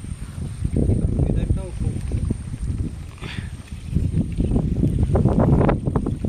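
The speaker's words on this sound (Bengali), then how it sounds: "ঠান্ডা ওয়েদার আর প্রচুর হাওয়া দিচ্ছে আজকে।" Strong, cold wind blows outdoors by a river, rumbling and buffeting steadily against the microphone. A person talks throughout.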